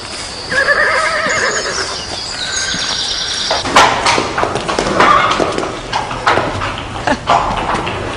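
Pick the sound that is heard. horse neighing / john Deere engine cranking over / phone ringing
horse neighing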